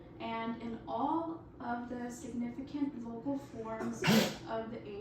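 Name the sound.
sneeze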